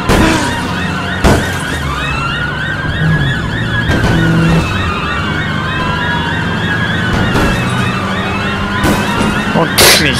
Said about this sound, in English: Brett, switch his sirens on.